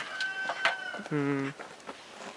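A few chickens cluck and squawk close by in a village in Erzincan, Turkey, in short bursts, with one longer, louder call in the middle over faint background noise.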